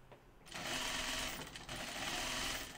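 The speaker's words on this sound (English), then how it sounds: "I'll sew this at a 3/8 inch seam allowance" A sewing machine stitches a dress seam at a 3/8 inch seam allowance, a steady close-up whirring hum. It starts after a brief quiet lead-in and runs almost without a break, with one short dip partway through.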